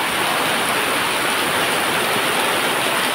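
Heavy rain and rushing floodwater spill over a nearly submerged bridge, producing a loud, dense, unbroken roar of water that stays constant throughout, with no voices audible.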